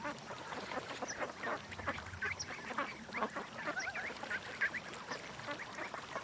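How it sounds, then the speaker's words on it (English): A flock of rascally ducks quacks busily and continuously at close range, with overlapping calls and chatter filling the air outdoors. "What a bunch of rascal ducks."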